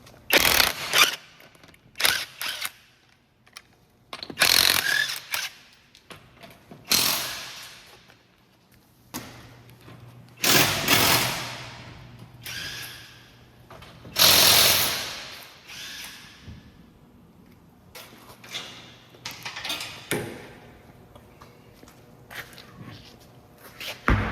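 Someone removes 19 mm wheel nuts from a jacked-up 2007 Dodge Grand Caravan 3.3L: intermittent bursts of ratcheting and metallic tool noise alternate with quieter handling and shuffling steps nearby.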